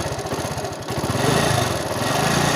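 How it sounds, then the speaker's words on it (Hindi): A motorcycle engine starts and keeps running, a loud, steady, rapid low putter that thickens and grows slightly louder after the first second, with no talking. "अब मोटरसाइकिल स्टार्ट हुआ है"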